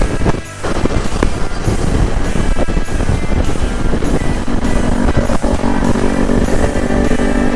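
A motorcycle riding along a highway toward Manaoag, Pangasinan, a loud steady engine drone mixed with rushing wind buffeting the microphone, continuous throughout.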